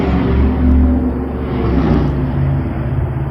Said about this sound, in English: there's a loud fucking motorcycle